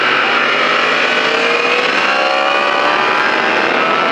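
A motorcycle on a race track held at high revs and accelerating, a loud, continuous engine whine with rising pitch, close by, with no talk over it.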